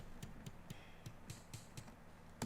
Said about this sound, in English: this next one is a kick attack